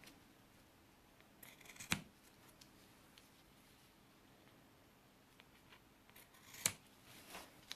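Scissors trim ribbon on a handmade watercolour Easter card, giving two crisp, quiet snips about five seconds apart in an otherwise near-silent room.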